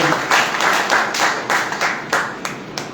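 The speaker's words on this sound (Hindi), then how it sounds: "अपने अभिनंदन में तालियां बजाएं।" Audience clapping at a live song and poetry event, rhythmic and fairly close, with bright evenly spaced claps rising and falling in waves across the few seconds, no talking over it.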